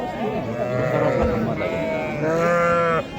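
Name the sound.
ewes and lambs bleating at a livestock market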